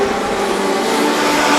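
Legend race cars roar down the back straight of a racing circuit, a loud, dense engine drone sustained throughout with no gaps.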